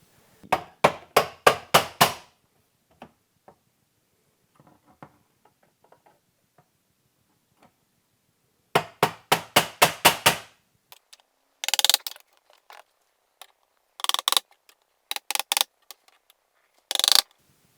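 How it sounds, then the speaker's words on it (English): Hammer tapping a bradawl to mark a hole for fitting a dog flap, sharp close metallic taps in quick bursts of five to eight strikes separated by quiet pauses, with no talk. "I'm placing it here, and I'm marking with the hammer"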